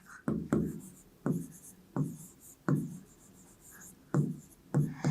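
Pen strokes writing out a maths solution by hand, a series of short distinct scratching bursts close to the microphone with brief pauses between them, and no talking.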